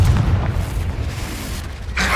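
A Confringo explosive spell from the Hogwarts Legacy video game goes off in a deep, rumbling blast that rolls on for a couple of seconds, ending with a brighter burst of crackle.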